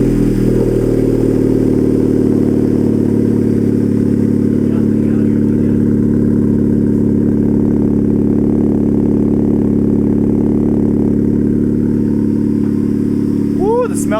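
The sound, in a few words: Honda Civic Type R engine cold start with catless downpipe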